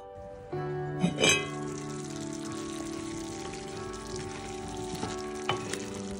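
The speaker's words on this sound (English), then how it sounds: "I'll add the onions and the garlic to the pot first to simmer on the stove" Onions and garlic sizzle in a pot on a stove as a soft, steady hiss beneath a sustained tonal hum, with a few light clinks and stirring knocks over several seconds.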